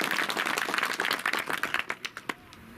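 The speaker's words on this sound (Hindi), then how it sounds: "अपने लिए भी तालियां बजाएं।" An outdoor political rally crowd in the sun claps, a dense burst of applause that thins into a few scattered, separate claps before fading out.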